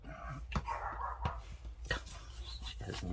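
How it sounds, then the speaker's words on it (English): A dog barks indoors in short sharp yips and a few whimpers, several separate barks spread across a quiet moment, fairly close but not loud. "She has no idea what she's barking at."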